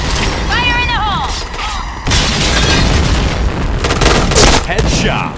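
Explosions and gunfire in a Counter-Strike style shooter, a loud boom followed by dense bursts of shots and mechanical game effects, with chirpy in-game sounds and players talking over the action.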